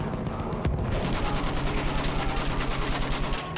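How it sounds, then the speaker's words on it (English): Dense, continuous machine gun fire in the video game Battlefield 1, a rapid, loud stream of shots over a wartime battle din, with one sharp blast early on. "Use that machine gun! Mow them down!"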